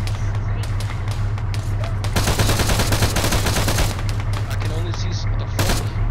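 Rapid automatic gunfire rattles in dense bursts at an anti-aircraft emplacement in the video game Arma 3, loud over a steady low engine hum, with voices talking in the background.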